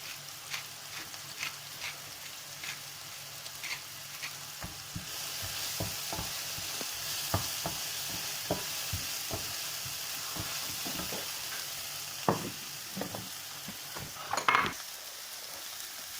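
Onions frying in a pan seasoned with salt, pepper and cumin, a steady sizzle with repeated clinks and scrapes as they are stirred, close and fairly quiet throughout.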